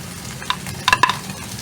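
Garlic and onion sauté in hot oil, a close sizzle broken by a few quick clinks and scrapes of a utensil against the pan.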